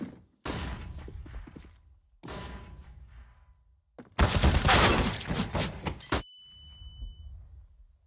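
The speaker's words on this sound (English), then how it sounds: "Deploying flashbang." Flashbang grenade detonating in a video game, a sharp loud burst of crackling noise after earlier thuds, followed by a thin high ringing tone that lingers briefly.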